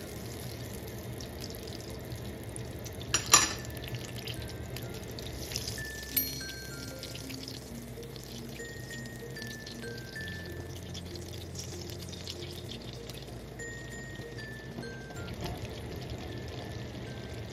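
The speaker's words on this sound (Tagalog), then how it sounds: "Then nilalagay na natin yung ating cooking oil para hindi masunog yung ating butter." Cooking oil poured into a pan with butter, a faint, steady trickling pour with a few small clinks, quiet and continuous throughout.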